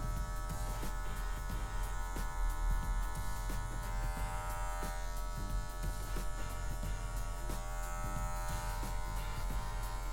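An electric hair clipper fitted with a 1.5 guard comb buzzes continuously during a barbershop fade haircut, a steady close motor hum with small rhythmic variations as it moves through hair.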